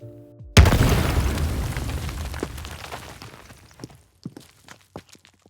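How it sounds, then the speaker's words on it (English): A designed explosion sound effect: a sudden deep boom bursts out, rumbles and decays for a few seconds, followed by scattered debris clatters and small pops. "Now let's have some fun and build an explosion."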